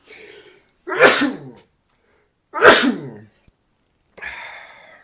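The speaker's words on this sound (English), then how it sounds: "I'm about to sneeze." Two loud sneezes close up, each preceded by a sharp inhale, with a short breathy sound afterward.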